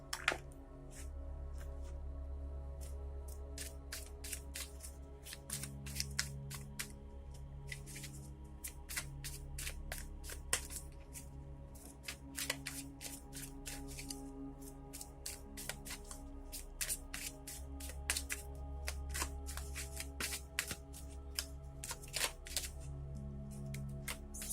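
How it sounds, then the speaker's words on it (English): Deck of tarot cards shuffled by hand up close, a long run of quick crisp card flicks and riffles over a low steady hum, with no talking. "drawing out a deck of cards from these cards and then shuffling one card"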